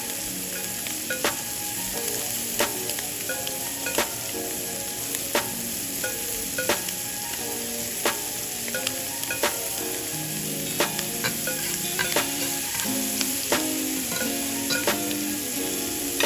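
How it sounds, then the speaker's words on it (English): Filet mignon steaks sear in melted butter in a hot pan, a steady close sizzle with sharp utensil clicks and scrapes every second or so and no talking. "I'm going to let these steaks sear just a little bit more and get some of that flavor from the butter"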